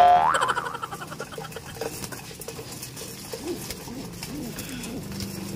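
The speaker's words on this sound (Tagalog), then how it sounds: "Nagwawala yung mga ibon." Birds at feeding time coo and chatter busily together at close range, a dense restless flutter of calls with soft pattering underneath.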